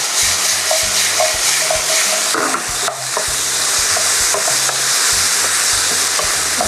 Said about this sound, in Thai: ผัดไปสักพักหนึ่ง อันนี้เราจะไม่ผัดให้สุกมากนะคะ